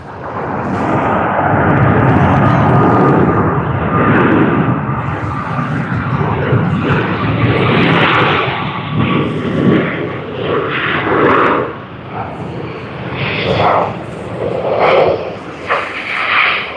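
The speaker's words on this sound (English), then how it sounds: "That was nice to see them use the thrust reversers across the length of the runway." An airliner rolling down the runway after touchdown at Sydney Airport with thrust reversers engaged, a loud, sustained roaring rumble of engines that swells and wavers for the whole stretch before easing slightly near the end.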